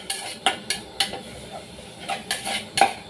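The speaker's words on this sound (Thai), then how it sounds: "แล้วก็รวนเลยค่ะ" Minced pork being stir-fried in a pan, a spatula scraping and knocking against the metal in quick repeated clanks, close and clear with a faint sizzle beneath.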